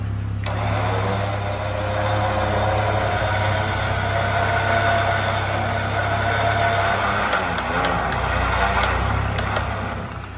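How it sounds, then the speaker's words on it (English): Jeep Wrangler engine idling during a winch installation, a steady low rumble with a faint whine on top, close and continuous, with a few brief clicks near the end and no talk. "I'm going to kill the engine for now"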